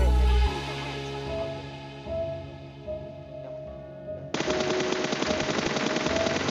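Automatic gunfire in the mobile shooter game PUBG Mobile: an opening shot, then sustained rapid bursts of machine-gun fire, loud and close, intensifying toward the end.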